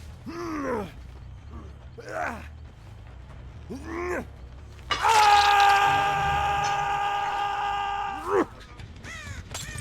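Crows in the video game Dead by Daylight caw in three separate hoarse bursts, then a long creaking mechanical groan follows with one more caw near the end, quiet game ambience underneath.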